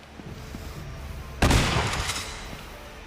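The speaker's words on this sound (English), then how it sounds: "And now he's got a shotgun." A shotgun blast in Uncharted: Golden Abyss on PS Vita, one loud sharp boom that rises out of low background game noise and then trails off in a decaying rumble.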